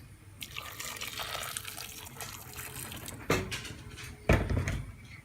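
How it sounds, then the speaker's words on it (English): Boiling water poured into a pot of beef steak stew, a steady splashing pour with clearer bursts of liquid near the end, close and alone. "I'm going to add in the beef, stir around, and I'm also going to add in boiling water."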